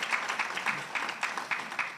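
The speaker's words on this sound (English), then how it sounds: "we need to give a round of applause to our Queen Mothers from Ghana" Applause at a conference honoring Queen Mothers from Ghana, faint, with a few distinct claps standing out in a loose, regular rhythm over a soft crowd background.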